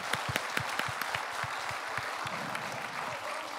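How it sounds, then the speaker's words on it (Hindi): A crowd at a live motivational event in India claps steadily, with distinct individual claps standing out over a dense, moderately quiet wash of applause and no speech. "give this to a big round of applause"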